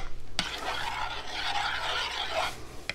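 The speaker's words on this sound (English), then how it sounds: "Give this a stir." A spoon stirs samosa patty mix of potato flakes and boiling water, making a continuous close, soft scraping and swishing with a sharp knock near the start.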